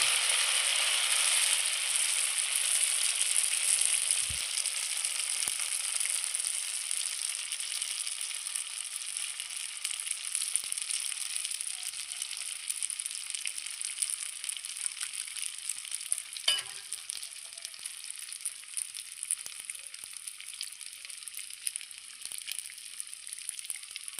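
Egg appam batter fries in a pan on a village stove, a steady hissing sizzle that slowly fades over about twenty seconds, with a few soft knocks and scrapes and no talk.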